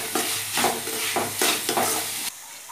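Palak and sweetcorn samosa stuffing cooks in a pan on the stove, with rhythmic stirring scrapes over a steady sizzle. The sound cuts off abruptly near the end, leaving a quieter hiss.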